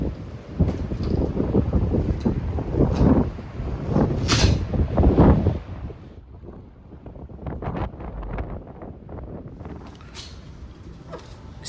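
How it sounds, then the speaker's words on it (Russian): Strong gusty wind by the Baltic Sea blasts against the microphone in loud buffeting roars, easing after several seconds into lighter, intermittent gusts. "Сегодня очень ветрено."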